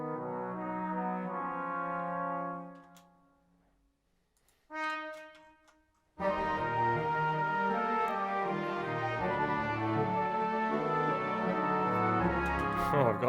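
Orchestral mock-up of The Great Mouse Detective theme in a Superman flying variation: sustained harmonic chords fade out, a short stab follows, then a fuller passage enters and plays loudly to the end.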